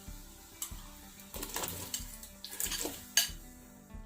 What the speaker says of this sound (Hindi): पानी उबलना शुरू हो गया है। अब हम सबसे पहले इसमें आलू बुखारा डाल देंगे।